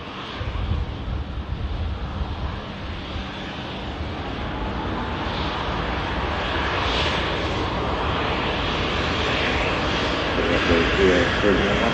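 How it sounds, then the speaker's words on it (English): A Virgin Airbus A350 jet airliner lining up on runway 23 left at an airport gives a steady, broad engine roar that holds throughout and swells slightly toward the end, mixed with wind noise. "Virgin A350 lining up on 23 left now."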